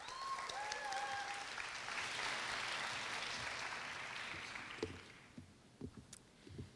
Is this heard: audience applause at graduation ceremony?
yes